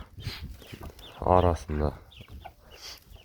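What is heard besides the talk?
hens clucking on a village farm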